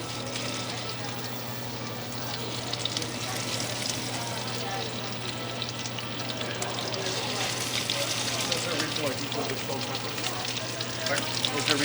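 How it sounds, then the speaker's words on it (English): Scallops fry in a hot pan with a steady, close sizzle and crackle that builds slightly, along with faint stirring and shaking sounds, while people chat nearby. "Scallops in the pan. Give them a little shake."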